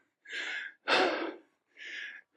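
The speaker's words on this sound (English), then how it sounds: "the incredibly heavy breathing when you're running" Heavy, ragged breathing of a runner out on an early morning run, three loud gasping breaths in and out, close and alone with no other sound.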